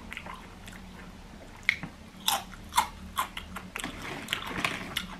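Close-up crunching of Walkers Max Strong fiery peri-peri ridge crisps, with irregular bites and chewing crackles that grow busier toward the end.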